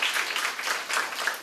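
Brief burst of audience applause for a speaker at an open-source education session at the COSCUP 2019 tech conference, many hands clapping in a dense, even wash.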